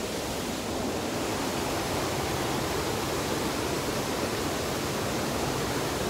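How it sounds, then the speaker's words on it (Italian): Steady broadband roar of the Monte Gelato waterfall in the province of Rome, continuous and close, water pouring without pause and nothing else audible. "Siamo alle cascate di Monte Gelato, provincia di Roma, qui vicino da noi."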